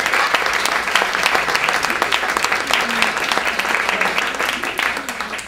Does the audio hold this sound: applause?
yes